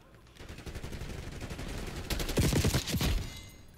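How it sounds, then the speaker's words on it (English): An AMES 85 assault rifle fires rapidly in a video game, a continuous stream of sharp, loud shots that grows heavier and punchier toward the end of the burst. "You can see that it puts out bullets quickly"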